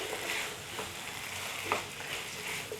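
Chopped capsicum and onion fry in a pan, a soft steady sizzle with light scraping stirs, quiet and close with no talk.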